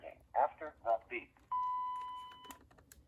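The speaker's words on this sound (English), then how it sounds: "Record greeting after the beep." A single steady electronic answering-machine beep from a Panasonic KX-TG2583S cordless phone lasts about a second, right after a spoken prompt from the phone.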